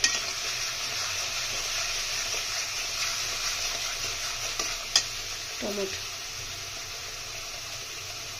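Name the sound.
spice paste with turmeric being sautéed in a pan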